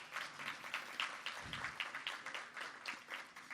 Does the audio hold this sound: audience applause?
yes